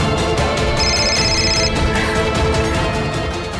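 A phone rings with a repeated electronic ringtone for an incoming call, loud and close, playing steadily throughout with no talk.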